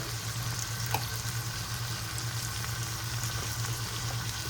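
Steak sizzling in a frying pan while steak wraps are made, a steady close hiss of frying running alone and evenly throughout.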